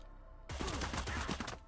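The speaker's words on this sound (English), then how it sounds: "These guys are going to hear the gunfire," Full-auto assault rifle fire in the tactical video game Cyber Knights: Flashpoint, a quick rapid burst of about a dozen sharp shots lasting around a second, fairly close and alone.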